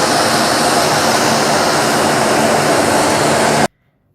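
A relief aid airplane's engines roar loudly and steadily, a dense, continuous drone close by that cuts off abruptly near the end into silence.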